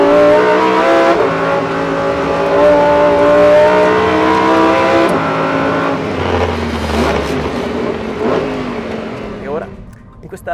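A Lamborghini Huracan STO on Bridgestone Potenza Race tyres drives on a race track during a track day, its engine droning loud and steady before easing off near the end, with someone talking over it.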